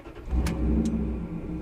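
A 2003 Dodge Ram 1500 4x4 with a 4.7 V8, high-flow cat and Flowmaster Super 10 exhaust rumbles close by at a deep, steady idle with a quick rev.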